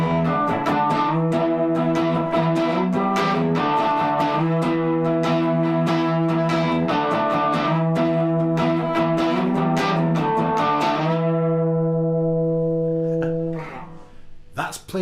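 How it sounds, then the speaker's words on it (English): A clean electric guitar with humbucker pickups, played through a clean amp channel with all effects off, plays strummed chords with a full, rich tone, ringing out on a final sustained chord that slowly fades. "it's the only one that I've got with humbuckers, so it's this big full-on kind of rock sound"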